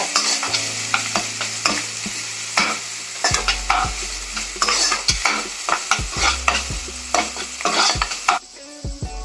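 Onions fry in a pan for chilli idli, a steady sizzle broken by repeated scrapes and knocks of a stirring spoon, loud and close with no talking.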